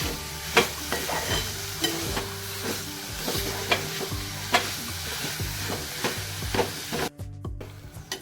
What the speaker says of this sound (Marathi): ओलं खोबरं टाकायचं आहे चांगलं परतवून घ्यायचं गॅस आपल्याला कमी ठेवायचं